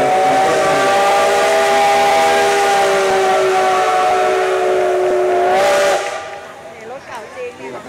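A loud, sustained whistle from State Railway of Thailand steam locomotive No. 715 blows steadily for about six seconds, then cuts off, leaving faint background murmur and hiss.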